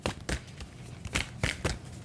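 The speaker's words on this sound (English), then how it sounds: "Let the cards shuffle and tell us." Tarot cards are shuffled by hand in quiet, close bursts of soft riffling and slapping, several quick irregular shuffles with no talking.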